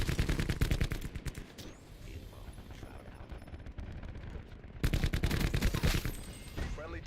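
Rapid automatic gunfire from a gun in the Black Ops 6 multiplayer video game, loud, dense bursts at the start and again near the end, with a quieter stretch between them.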